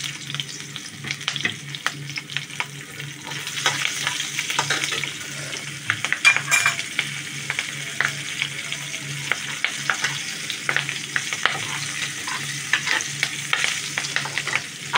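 Nigella seeds and green chilli fry in hot oil in a pan, a steady crackling sizzle with scraping stirs running throughout, loud and close, without any talk.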